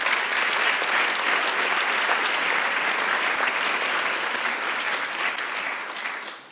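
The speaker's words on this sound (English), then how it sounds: "So, applause for yourself." An audience at an award ceremony applauds in a dense, steady wash of clapping that fills the room and then fades away at the end.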